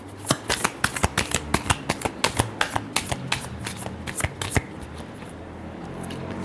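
Tarot cards being shuffled by hand, a rapid run of crisp riffling clicks and flicks up close for about four seconds, then fading into quiet room tone.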